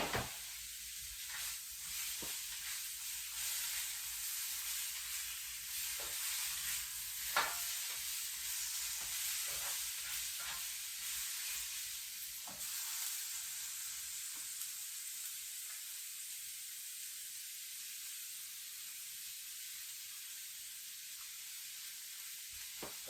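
Snow peas and onions sizzling in a frying pan, a steady bright hiss of frying with occasional soft stirring clicks, close but quiet.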